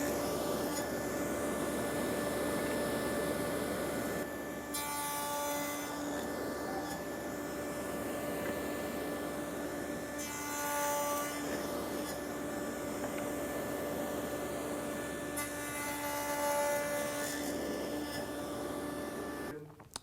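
A power saw cuts cross lap joints in wood slats, a loud continuous whining drone with passes that rise and fall roughly every few seconds, close and unbroken.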